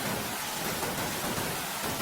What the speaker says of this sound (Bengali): এমন সময় বাইরে আবার ঝমঝম করে বৃষ্টি নামল।